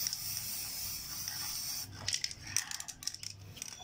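Spray paint hisses steadily onto a rusty ten-year-old electric fan for about two seconds, then breaks into short, uneven spurts and rattles, close up, with no talking.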